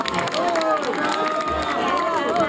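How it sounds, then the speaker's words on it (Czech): A theatre audience applauds at an awards ceremony for the best amateur actors, a dense continuous patter of clapping with crowd noise and a voice speaking over it throughout. "Prosím potlesk, děkuju."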